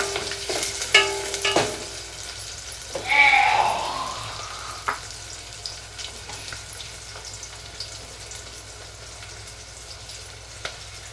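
Onions fry in oil in a home kitchen pan, a steady soft sizzle running throughout with occasional stirring scrapes and a brief clatter near the start.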